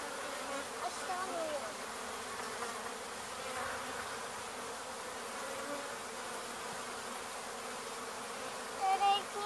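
A honey bee swarm being removed in Weslaco, Texas, fills the air with a dense, continuous buzzing drone, close and steady, with a few louder individual bees passing near the end.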